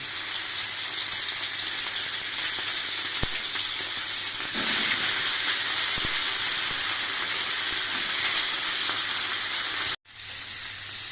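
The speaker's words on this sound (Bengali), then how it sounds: "পনিরগুলো ভেজে নিচ্ছি।" Paneer pieces fry in hot oil in a wok on a gas stove, giving a steady, close sizzle that rises slightly partway through, with a couple of faint clicks and no talking.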